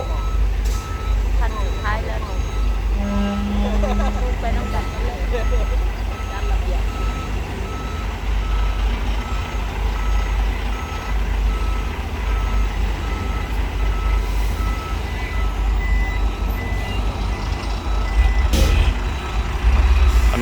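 A Volvo truck reverses, its backup alarm beeping in a steady repeating rhythm over a low diesel rumble, with a brief hiss of air brakes near the end and voices talking in the background.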